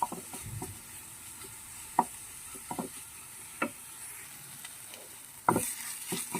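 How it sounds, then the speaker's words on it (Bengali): Ground coriander-leaf paste frying in a pan is stirred with a utensil, giving faint sizzling broken by sharp, irregular scrapes and taps against the pan at close range. "ধনে পাতাটা পাতাটা কিন্তু একদম ভাজা কমপ্লিট হয়ে গেছে"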